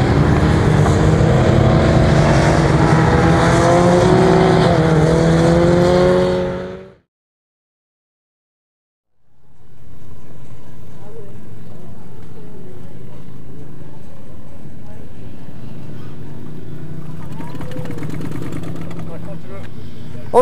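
Motorcycles ride the Chambley race circuit in France, their engines roaring loudly with rising and falling pitch for several seconds, then a brief silence before more distant engine noise rumbles on.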